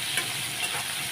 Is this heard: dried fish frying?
yes